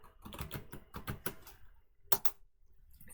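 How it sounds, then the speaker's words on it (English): Quick, close clatter of keys on a computer keyboard as a command is typed into a command prompt, a burst of keystrokes, a short pause, then a few more taps. "you can go to command prompt and type Ollama"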